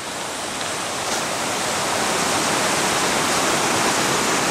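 A stream flows behind a bridge on a mountain hiking trail, a loud, steady broadband rush of water that fills the air close by without a break and builds slightly over a few seconds, with no talking.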